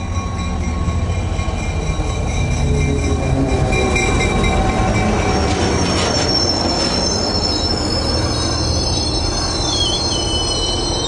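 A train rolling along the rails near a Palo Alto station, with loud continuous wheel rumble and high, drawn-out metallic wheel squeals that rise and waver, close and steady throughout.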